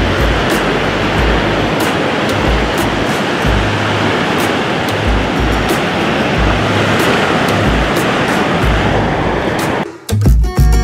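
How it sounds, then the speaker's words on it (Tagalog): Sea waves at Ladder Beach on Saipan wash and roar continuously as a loud, dense surf rush with gusty low wind buffeting, no voices, ending in an abrupt handling bump. "Ganda ng dagat"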